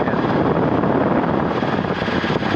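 A steady, loud drone from a Rotorway helicopter engine and rotor in flight, heard from inside the cabin, with constant wind-blown rumble and no talk.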